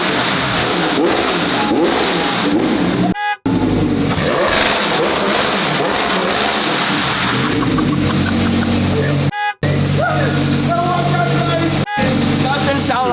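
A Lamborghini Huracan Evo2 race car engine revs loudly and repeatedly up close, with hard throttle blips and brief cuts between pulls, while voices talk over it.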